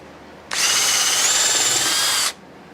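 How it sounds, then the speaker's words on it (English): A power drill bores a hole in wood for a bunk bed build, one steady high whine lasting nearly two seconds with an abrupt start and stop, loud and close against a quiet background. "I don't want to just show one hole being drilled"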